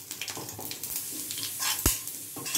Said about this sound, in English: little curry patta, fry, and then add hing to it.